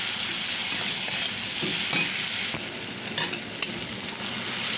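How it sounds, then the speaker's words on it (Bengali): Chopped onions with pumpkin sizzle in hot oil in a pan for a yogurt-eggplant curry, a steady close frying hiss broken by a few scraping stirs of the spatula, with no talking. "পেঁয়াজটা ভাজা ভাজা হয়ে গেছে,"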